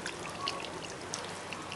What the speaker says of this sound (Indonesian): Kita siram lagi. Kita akan siram lagi dengan air